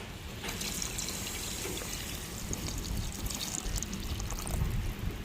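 Tamarind water poured into a pot of dried stingray fish curry with masala, a steady close liquid pour with trickling and splashing that runs the whole time with no talk.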